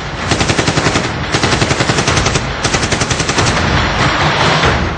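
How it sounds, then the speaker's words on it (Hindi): Machine gun and mortar fire along the India-Pakistan border in the Arnia sector of Jammu, heard as loud, close rapid bursts of automatic gunfire in three rhythmic volleys followed by a continuous roar, with no talking. "सरहद पर मोर्टार और मशीन गनों से फायरिंग हो रही है।"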